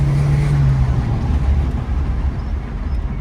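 Toyota Echo engine droning steadily from inside the car while driving, a loud low hum with road rumble and no talking.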